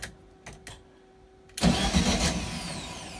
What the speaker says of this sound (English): makes the starter go